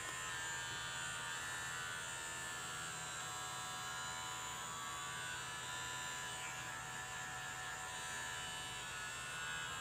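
A Kemei 2600 electric hair clipper runs continuously with a steady, rather coarse buzzing hum, close to the microphone and loud throughout, with no talking over it.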